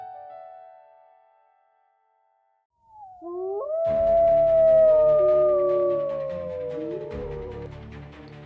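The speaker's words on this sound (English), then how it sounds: "A distant howl cracks the air." A wolf howls in a long, wavering wail that rises and then slowly falls, with a second cry breaking in near the end. It is carried over a low droning backdrop after a brief stretch of quiet.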